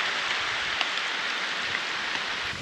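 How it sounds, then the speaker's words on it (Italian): Rain falls through cedar trees in a forest on the slopes of Mount Belukha, a steady close hiss of drops pattering on branches and ground with a few sharper ticks. "È iniziato a piovere, non benissimo."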